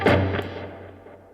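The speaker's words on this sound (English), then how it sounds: "then you're going to strum a couple of times with just those dead strings." Muted, dead strums on electric guitar strings played through a distorted amp, a single short percussive scratch that decays quickly under a low hum, with no one talking.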